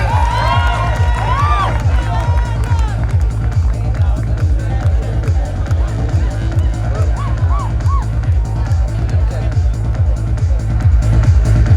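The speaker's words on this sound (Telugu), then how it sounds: "క్లాప్స్ ద్వారా మనం కూడా సన్మానం చేద్దాం." A college audience at JNTUK, Kakinada cheers loudly at a song launch event for the film Alluri, with whoops and shouts over a steady pounding rhythmic beat, and voices calling out in the crowd.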